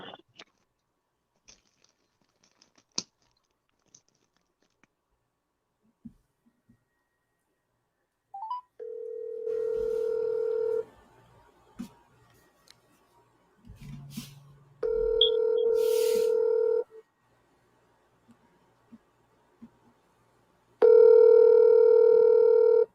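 A phone call is placed: scattered handling clicks and keypad tones, then long ringback tones sounding in repeated bursts with silent gaps between them, loud and close.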